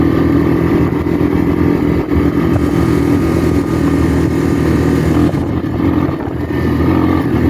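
A Honda Big Red three-wheeler with carburetor problems runs steadily and loudly up close, its engine holding a constant droning, buzzing note with slight fluctuations and no talk.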